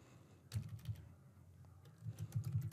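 Computer keyboard typing, faint and close, with a brief burst of key clicks followed by a denser run of quick taps, no voice over it.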